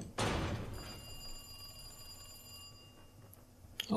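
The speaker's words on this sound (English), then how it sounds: "Oh, a phone call." A telephone rings inside Resident Evil 2 Remake, a steady electronic ring with bright tonal lines sustained for several seconds after a sharp onset, fairly clear over quiet game ambience.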